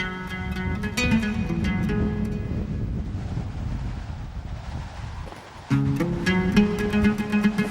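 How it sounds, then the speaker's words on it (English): Steady strong desert wind in Jordan roaring across an open microphone, with broad rumbling gusts and a sustained tonal drone layered throughout. "To get out of that wind, Alush."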